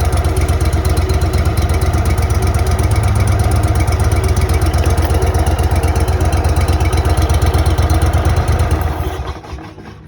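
Carbureted engine running just after a carburetor repair, a loud, close, even idle with a rapid steady pulse for about nine seconds before it shuts off and fades out.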